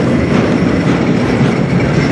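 A freight train on the Strathroy Sub rumbles steadily past at close range, with continuous loud wheel clatter and a broad roar and no break.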